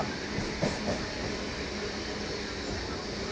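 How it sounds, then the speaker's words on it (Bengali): Continuous low rumble and hiss of a train picking up speed after leaving Sealdah, with faint rattling, heard from on board without talk. "দেখুন বন্ধুরা ট্রেনের স্পিড কিন্তু ক্রমশ বেড়ে যাচ্ছে"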